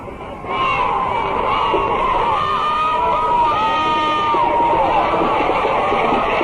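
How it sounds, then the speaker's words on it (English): High school football cheerleaders leading a cheer from the field at Howe Bulldogs vs. Olney Cubs, heard as a loud massed chorus of voices with crowd noise, sustained after a sharp onset. "we were going to try to pick up that cheer."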